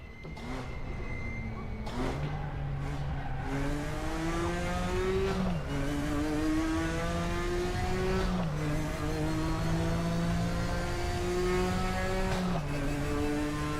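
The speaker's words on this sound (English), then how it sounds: "It's quite an interesting sound when you're changing gears." A race car engine in RaceRoom Racing Experience whines upward and drops sharply at each gear change, repeating several times in a steady, close, continuous drone.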